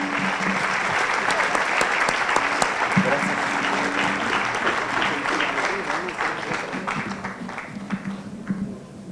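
A seated audience at a book presentation gives sustained applause, thick clapping that slowly thins out toward the end, with a few voices faintly audible underneath.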